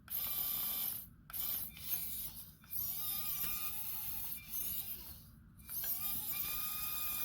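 An HBX Devastator RC crawler strains to climb an obstacle, its small motor and gears whining and ratcheting up close in uneven surges, cut by brief pauses where the drive stops.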